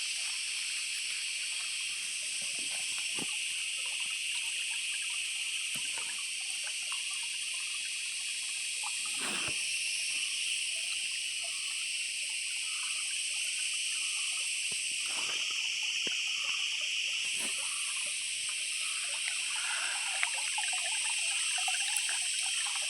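Mountain spring water trickles and flows steadily in a jungle setting, a faint continuous babble under a constant high insect drone, with occasional soft splashes.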